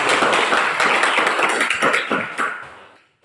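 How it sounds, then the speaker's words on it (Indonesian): A classroom of students claps together in a quick, loud burst of rhythmic applause that swells briefly, then fades out toward the end. "Kita berikan tepuk"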